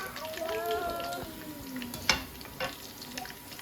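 Steady sizzle of food frying in a pan, with a brief voice early on and a few sharp clinks of a utensil against the pan.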